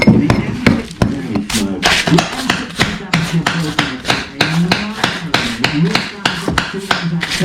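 Sharp, regular metallic strikes of a hammer on a bolster chisel cutting into masonry while knocking through a wall into a kitchen, loud and close, with brief talk between blows.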